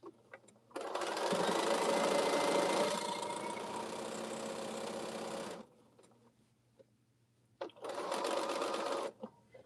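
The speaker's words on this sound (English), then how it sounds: "So I'm just sewing the rows together." A sewing machine stitches quilt rows together. It gives a steady mechanical whir for several seconds, stops, then runs briefly again, close and alone.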